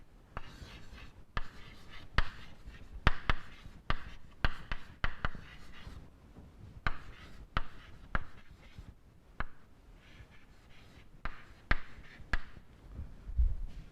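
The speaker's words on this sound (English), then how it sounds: "let me write here itself" Chalk taps and scrapes on a board during a crystal structure lecture, coming in irregular bursts of short strokes with pauses between, fairly close and clear, with no talk.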